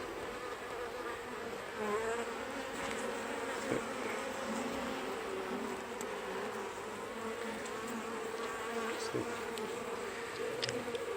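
Honeybees hum steadily inside a Flow Hive Hybrid colony fed sugar syrup, a dense, continuous close buzz with no voices over it.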